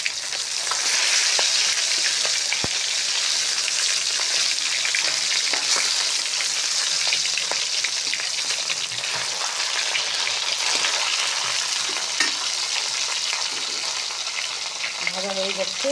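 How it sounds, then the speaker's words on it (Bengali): Pieces of fish fry in hot oil in a pan, giving a loud, continuous sizzle with crackles and a few sharp pops, heard close up and without talk. "মাছটা ভালো করে ভাজা হোক।"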